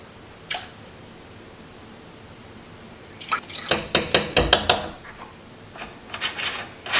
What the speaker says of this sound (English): And 6 tablespoons of apple cider vinegar.